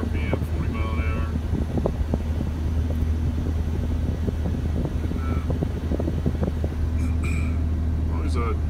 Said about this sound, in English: we're just kind of dragging this trailer up this hill. In fourth gear, running 1600 RPM, 40 mile an hour